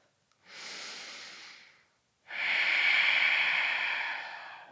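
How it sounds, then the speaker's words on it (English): Two slow, deep breaths during a yoga breathwork session, a soft airy inhale followed by a longer, louder hissing exhale, close to the microphone in a quiet room. "Take another breath."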